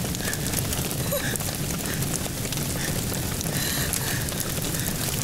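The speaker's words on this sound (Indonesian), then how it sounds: "Sudah hujan." Steady rain falls outdoors, a constant hiss of drops hitting surfaces that holds at an even, moderate level throughout with no voices.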